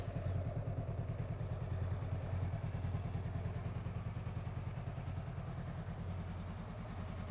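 A Honda motorcycle engine idles steadily, a continuous, even mechanical thrum with a regular pulsing beat and light clatter, moderately quiet and uninterrupted throughout.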